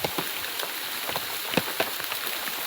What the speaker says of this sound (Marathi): मित्रांनो, खूप मुसळधार पाऊस आहे.